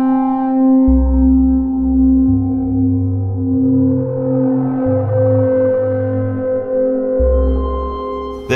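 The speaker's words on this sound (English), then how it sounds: "Volume 1 features sounds produced using various feedback and distortion techniques, all performed in the analog domain" Analog modular synthesizer feedback and distortion tones: sustained droning buzz with stepped shifts in low pitch and a slowly rising, warbling upper layer, loud and steady without pause.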